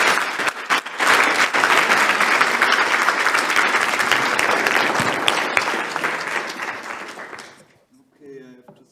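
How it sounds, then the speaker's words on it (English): Sustained audience applause for a science slam presenter named Max fills the room with dense clapping, then fades out as a speaking voice begins near the end. "So, give applause to Max."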